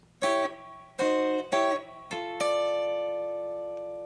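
Guitar playing the first phrase of a song's second verse, a sequence of five plucked notes and double-stops in an uneven rhythm, the last note left ringing and fading, close and solo.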